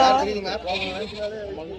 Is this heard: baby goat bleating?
yes